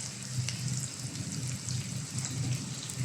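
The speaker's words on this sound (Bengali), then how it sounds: "এখন তেল গরম হয়ে গেছে। এখন আমি পেঁয়াজ দিয়ে দেবো। আমি কাঁচামরিচ দিয়ে দেবো।" Onions and green chillies sizzle in hot oil in a pan while cooking chicken curry, a steady close crackle and hiss with no talk.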